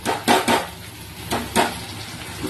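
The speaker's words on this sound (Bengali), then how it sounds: "দুটোই ভালো করে নাড়াচ্ছি তাহলে তাড়াতাড়ি রান্না হবে" Two curries are stirred in cooking pans on the stove, a spoon knocking and scraping against metal in a handful of sharp, irregular clanks over a low background.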